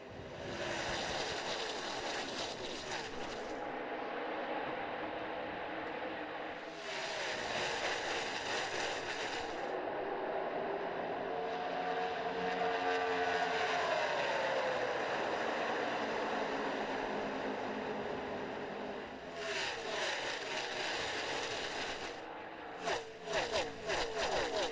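NASCAR stock cars roar through lap 1 of the 2018 KC Masterpiece 400 just after the green flag, a dense, sustained engine drone with swelling passes as the pack sweeps by.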